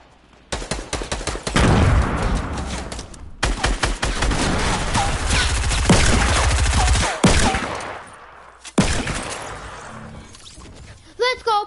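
Rapid bursts of pistol and automatic gunfire in a shooter video game, loud and close, firing in dense volleys with brief pauses, while a voice talks over the shooting.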